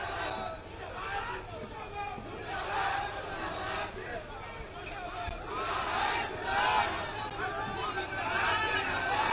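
Crowd noise at a Nitish Kumar election rally during the 2020 Bihar elections, a steady, dense babble of many voices shouting and chattering throughout, with no single slogan standing clear.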